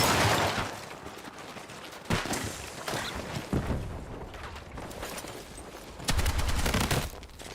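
Battlefield 6 gunfire, with repeated bursts of rapid shots and single cracks across several seconds, loud and close, mixed with lighter background game noise.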